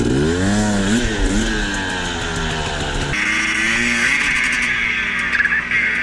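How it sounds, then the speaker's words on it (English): An enduro dirt bike engine screams at high revs on a steep climb, rising and dipping as the throttle is worked, loud and close, with wind noise throughout. "I was revving the piss out of my bike"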